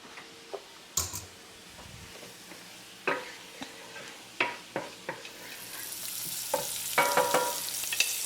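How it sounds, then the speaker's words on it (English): Soft, steady sizzling of shallots in a pan, broken up by scattered clicks and clinks of a utensil stirring; no one speaks. "here are my shallots sizzling over there."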